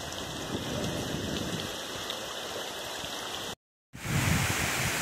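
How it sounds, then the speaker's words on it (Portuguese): Steady rain falling in the countryside of Poções, a dense, close hiss of drops on surfaces that continues evenly, cut by a brief moment of silence before resuming slightly louder. "chuva caindo."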